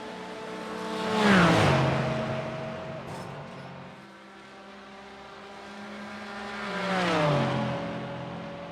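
Race cars, including a Porsche, lapping the Nurburgring 24h circuit in a racing video game, two passes with engines rising to a loud whine as each car nears, then dropping in pitch as it pulls away.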